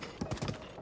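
A horse's hooves clip-clop in Zelda: Tears of the Kingdom, a few quick uneven thuds close by in a brief burst.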